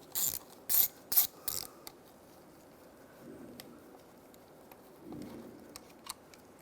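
A ratchet backs bolts out of the clutch slave cylinder on a 2005–2010 Chevrolet Cobalt, giving several quick, close clicking bursts early on, then quieter metallic handling sounds.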